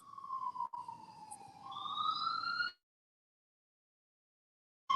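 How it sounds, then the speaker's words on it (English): Police-style siren wailing outside, rising and falling tones for under three seconds before cutting off into silence, fairly faint and distant. "you hear the sirens."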